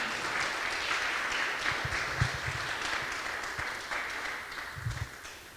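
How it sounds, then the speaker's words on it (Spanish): A church congregation applauds, a steady wash of many hands clapping that fills the whole stretch at moderate loudness with a few louder thumps. "Dele un aplauso al Señor entonces"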